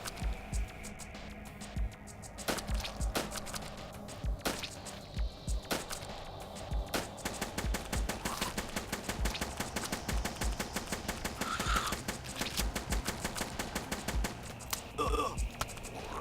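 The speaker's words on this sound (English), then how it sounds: "Oh, cupcake gun." Rapid repeated firing of the cupcake gun in Hordelicious, an alien-base level, with dense rhythmic shots running throughout amid game effects and music.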